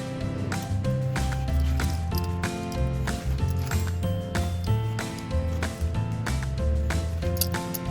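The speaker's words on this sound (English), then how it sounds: "use a relative round spoon to scoop spears of watermelon" Round spoon scooping balls out of a watermelon, a run of close, wet squishing and crisp scraping strokes repeating in a steady rhythm, with no talking.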